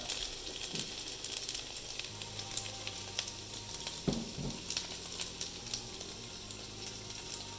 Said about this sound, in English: So make sure that the frying is going, the bottom is starting to get cooked